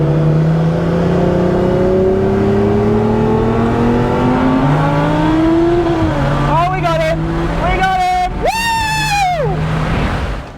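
A BMW N54 twin-turbo car accelerating hard through several gears, its loud engine note rising in long sweeps with brief shift breaks, close and continuous throughout.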